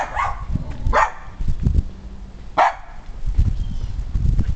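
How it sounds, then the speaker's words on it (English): Several dogs bark in short scattered bursts over a steady background hum, with a few sharper yips mixed in, close by at a house. "Damn dogs."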